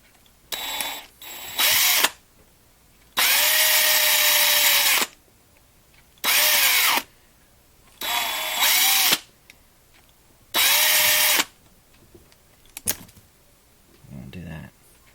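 A DeWalt 36-volt cordless drill drills out a 1/64-scale NASCAR custom diecast car in about six loud, short bursts separated by quiet pauses.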